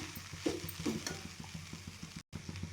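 Leftover rice cooked into tomato rice is stirred and fried in a pan, with steady rhythmic scraping strokes over a continuous close sizzle and no talking.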